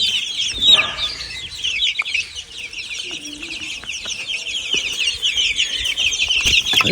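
Black roosters and chickens cluck and call in a bird-filled yard, with shrill chirping from many smaller birds running steadily throughout and occasional louder clucks close by.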